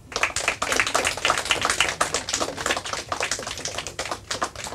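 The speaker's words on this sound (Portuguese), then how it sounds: "Palmas para eles." Studio audience at a Portuguese quiz show applauds the competing teams, a dense, even patter of many hands clapping for about five seconds with no talk over it.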